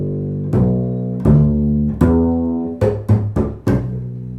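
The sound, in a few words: bluegrass bass bucket-da-boom pattern, muted notes landing on B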